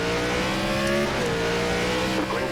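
Engines of NASCAR race cars in the sim racing game iRacing at New Hampshire Motor Speedway, droning and pitching up as they accelerate after the pace car pulls off, a steady loud roar with no talk.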